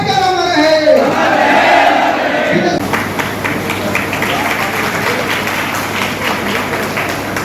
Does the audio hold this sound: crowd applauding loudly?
yes